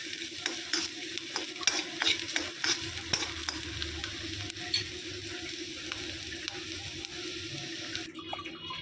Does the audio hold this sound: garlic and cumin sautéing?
yes